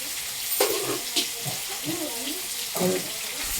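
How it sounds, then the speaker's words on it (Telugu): Fish frying in a pan for fish curry, a continuous hissing sizzle with bursts of bubbling and crackle, and a few louder spits; a voice murmurs faintly underneath. "ఫ్రై చేస్తాను నేను చేపల ఫ్రై"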